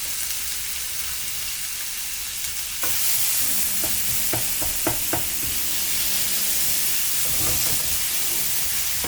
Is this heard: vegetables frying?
yes